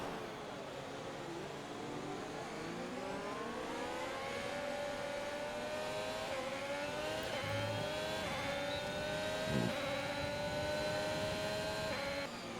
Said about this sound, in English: It's a really good sounding engine.